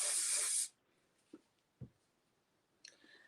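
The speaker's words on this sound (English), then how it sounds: "I'm going to spray my section." A close, loud burst of hairspray hisses for about half a second, followed by a few small clicks and handling sounds, then a second short spray.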